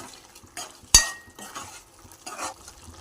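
A spoon stirs two tablespoons of oil into a pot of mutton and lady finger curry, giving one sharp scraping clink followed by soft, brief stirring rustles and a faint sizzle, close and alone.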